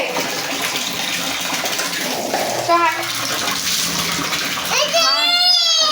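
Water splashes and gushes as a young child is bathed, a steady wash of running water with a voice and an adult talking over it.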